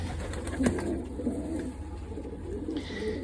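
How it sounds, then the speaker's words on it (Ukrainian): Sick breeding pigeons coo softly and repeatedly close by, low throaty calls over a steady low background rumble. "Ті голуби хворі."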